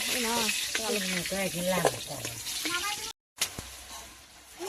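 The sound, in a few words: onion and garlic paste frying in a pan for meat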